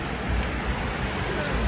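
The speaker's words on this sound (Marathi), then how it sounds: "ते विजा करारत आहे, भरपूर पाऊस आहे." Heavy rain falls steadily near the Kremlin in Moscow as a dense, continuous hiss with no break.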